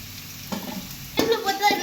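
Bitter gourd sautéing in a pan as it is stirred, with a steady sizzle and scraping bursts of stirring noise repeating through the short stretch, close by and fairly loud.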